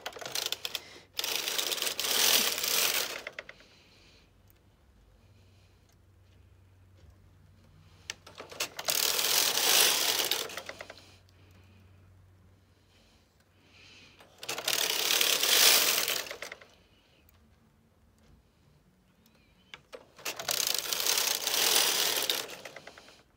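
A knitting machine carriage is pushed across the bed four times in a row, each pass a loud rattling, clicking mechanical rush lasting a few seconds, separated by quiet pauses with faint handling noises.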